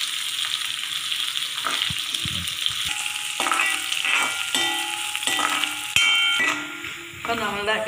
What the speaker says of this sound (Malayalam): അപ്പം നമ്മളുടെ കടുക് വറുത്ത ഉള്ളിയൊക്കെ ഒന്ന് ബ്രൗൺ നിറത്തിലാവുന്നുണ്ട്